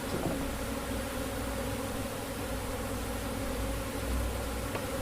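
Honey bees buzzing inside a container, a steady, close, continuous drone with a faint higher whine, no voices.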